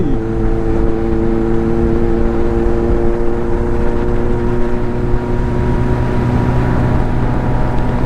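A Kawasaki Ninja 1000 SX motorcycle engine drones loudly and steadily, its pitch rising slightly at the start and then holding even, with continuous road and wind noise underneath.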